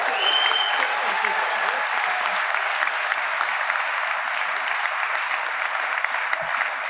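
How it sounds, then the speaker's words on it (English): Loud, continuous audience applause at a university graduation ceremony, following an honorary doctorate acceptance speech. It holds steady and dense from start to finish, with no talking over it. "that deserved a bigger cheer than the cricket"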